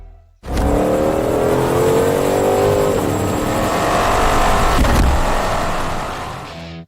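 Supercharged V8 engine of an American muscle car revving hard, a loud sustained roar that climbs in pitch, holds for several seconds, then eases off, close and with no talk.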